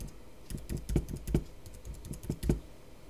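Fingers type a test card number on a computer keyboard in quick irregular bursts of clicks, several keystrokes grouped together with short pauses between, close and fairly clear over a quiet room.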